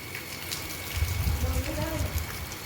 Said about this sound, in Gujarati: હજી વરસાદ આવે છે, ચાલુ જ છે.